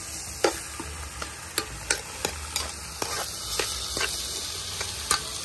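A meat-and-potato mixture sizzles and fries in a pan over a wood fire, a steady close crackle broken by sharp stirring scrapes about once a second.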